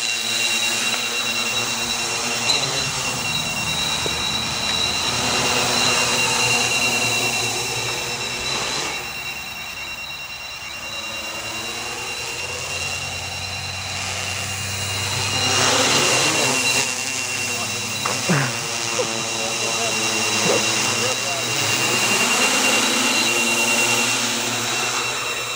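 Motors of an Oktokopter XL multirotor drone whine steadily through its first flight, a sustained buzzing drone with shifting pitch, while people talk intermittently nearby.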